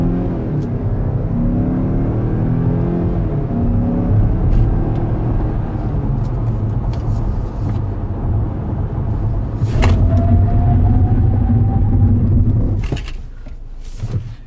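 A 2020 Mazda CX-5 Signature on a test drive, with a steady loud engine and road rumble from inside the cabin, a brief rising whine and a hard stop near the end.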